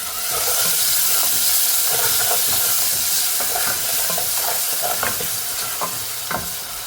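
Grated onion frying in oil over browned garlic, a steady loud sizzle with scattered scraping stir clicks throughout, no voices.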